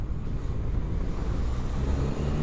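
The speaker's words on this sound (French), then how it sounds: "Quand j'accélère en trombe avec ça." A SYM Maxsym TL 500 maxi-scooter accelerating hard at full throttle, a steady, loud, close engine roar held for the whole stretch with no voices.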